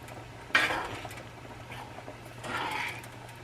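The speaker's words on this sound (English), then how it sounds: "Just stir it really well." Ground beef noodles are stirred in a pan, with a sharp utensil clack against the metal followed by scraping and a second softer swirl of stirring, quiet and close.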